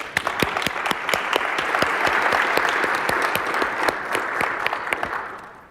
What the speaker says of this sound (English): And a big applause,